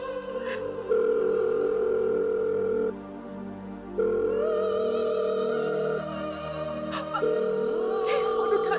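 Telephone ringback tone on an unanswered call, repeated long steady tones with short gaps, fairly clear with faint background noises.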